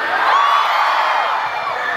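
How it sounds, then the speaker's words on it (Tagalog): A large outdoor crowd shouts and cheers loudly, a sustained roar of many voices with whoops rising over the mass of sound. "Malakas na hiyawan!"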